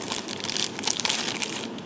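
Plastic bag crinkling and rustling as a folding knife, an MCUSTA MC-114D with a VG10 Damascus blade, is pulled out, close and busy with quick crackles.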